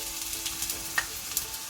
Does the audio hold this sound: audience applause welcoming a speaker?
no